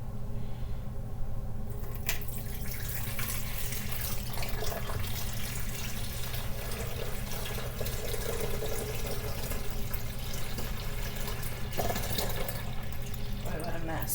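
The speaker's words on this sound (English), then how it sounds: "I'm going to pour this water in here." Water poured from a container into the small fill opening of a coffee maker, a steady close splashing and trickling stream that runs continuously, with a brief louder splash near the end.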